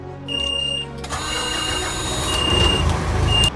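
A road train truck's big diesel engine cranks and fires up, settling into a loud, rumbling idle with a steady low drone and faint intermittent beeping above it.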